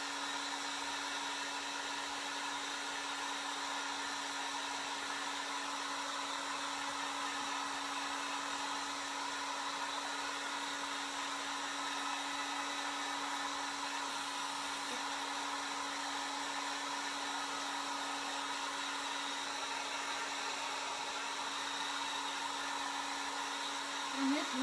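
A hair dryer blows steadily on a handmade fall topiary craft, a constant close whirring hum with a fixed low tone that keeps going without a break for the whole stretch.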